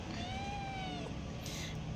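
A kitten meows twice, a drawn-out rising and falling cry followed by a shorter, fainter one, close by over a low background hum.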